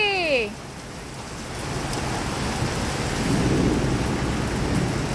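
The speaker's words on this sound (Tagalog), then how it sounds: "It's raining already." Heavy rain pours down with rumbling thunder, heard from shelter at a bakery; a brief voice opens the clip, then a steady broadband wash of rain builds and swells toward the end.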